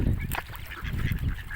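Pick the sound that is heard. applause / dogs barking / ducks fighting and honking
ducks fighting and honking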